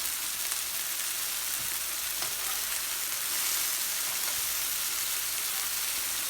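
Onions, tomatoes and peppers sizzle steadily on a hot plancha griddle alongside sardines, a dense, continuous frying hiss with small pops, close and even throughout, no talking.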